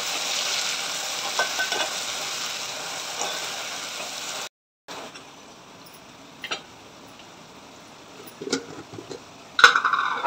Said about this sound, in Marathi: बघा आता आपलं वाटण छान फ्राय झालेलं आहे